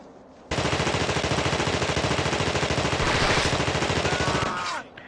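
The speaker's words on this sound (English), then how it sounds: "just needed to use the machine gun to take care of one guy that's just on the right hand side here" Sustained machine gun fire from The Thing Remaster rattles in a rapid, steady burst of about four seconds, loud and close, before cutting off into quieter game ambience.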